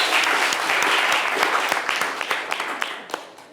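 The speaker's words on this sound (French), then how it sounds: "On applaudit très très fort pour Yasmine." An audience gives a singer named Yasmine a warm round of applause on a French live variety show, a dense roar of clapping that thins into scattered, sharper claps near the end.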